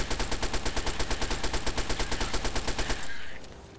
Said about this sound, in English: Or I better get out the old 10mm SMG.